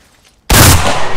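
Gunfire erupts in the shooter game Enlisted, starting with a sudden loud blast after a brief near-silence and continuing as a dense, roaring volley of shots.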